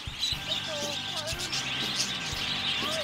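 Small birds at Zoo Miami chirp and tweet in quick, close bursts while feeding from a person's hand, overlapping calls scattered over a low, steady background.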